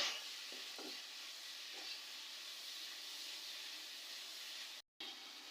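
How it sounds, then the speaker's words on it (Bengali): Dried fish frying in oil with garlic and onion gives a steady, fairly quiet sizzling hiss with a few soft stirring scrapes near the start and a brief cut-out near the end. "শুটকিটাও তেলের সাথে বেজে নেব রসুন আর পেঁয়াজের সাথে শুটকিটাও ভালো করে"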